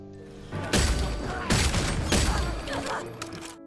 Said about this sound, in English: just listen to that headshot noise